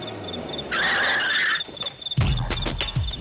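A car skids to a stop with a sharp tire squeal lasting about a second, followed by thumps and movement noises nearby; no talking.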